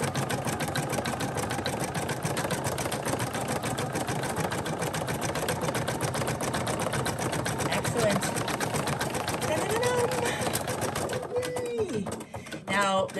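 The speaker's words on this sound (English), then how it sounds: "I just kind of have to let the machine do what it needs to do." An embroidery machine stitches a stuffed ram doll, a rapid, steady mechanical chatter running continuously up close before stopping near the end, with someone talking over it.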